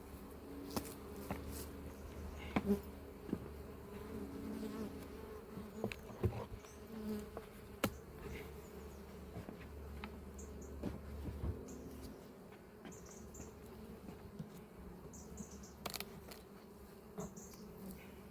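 Honey bees buzz steadily around an open hive in an apiary, a dense, continuous hum with a few sharper clicks and knocks from hive handling.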